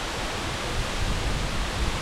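The Lauke waterfall pours in a dense, unbroken roar of falling water, loud and close, with no voices over it.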